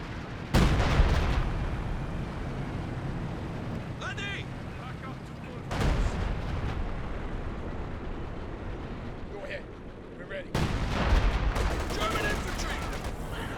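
Machine gun fire and artillery strikes in the Company of Heroes 2 video game come as three heavy bursts of booming, rattling gunfire, each followed by rumbling battle noise, with talk over the quieter stretches.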